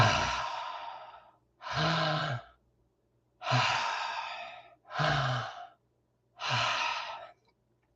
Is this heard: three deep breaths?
yes